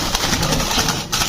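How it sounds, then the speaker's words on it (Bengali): Doves of several species on a home rooftop coo and call through a steady, loud wash of background noise, with soft repeated bird sounds across the short stretch. "আমাদের বিভিন্ন প্রজাতির ঘুঘু পাখি"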